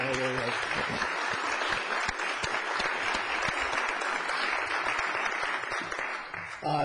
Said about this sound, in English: Bob, let's give Bob a round of applause